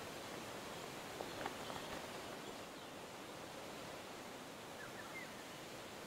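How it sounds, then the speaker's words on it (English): Steady broadband rush of a waterfall on the Monita Bay course in PGA TOUR 2K21, a constant faint wash of falling water with no talk. "It's a nice close-up of the waterfall"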